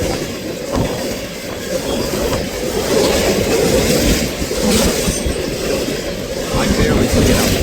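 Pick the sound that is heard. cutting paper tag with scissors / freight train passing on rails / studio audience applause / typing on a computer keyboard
freight train passing on rails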